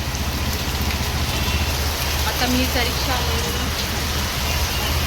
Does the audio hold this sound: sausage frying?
no